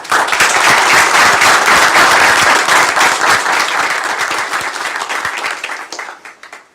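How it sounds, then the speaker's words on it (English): A council meeting audience gives a round of applause honoring twenty years of city service, loud, dense clapping from a crowded room that gradually thins and fades out near the end. "give him a round of applause for 20 years serving our city"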